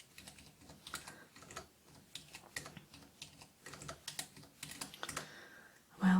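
Rapid, uneven tapping of a computer keyboard at a shop register, quiet and close, with brief pauses between bursts of keystrokes and a louder thump at the very end.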